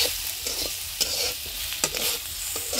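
Oil sizzles steadily in a pan as food fries, a dense close hiss with a few sharper crackles and scraping stirs over roughly three seconds, no talking.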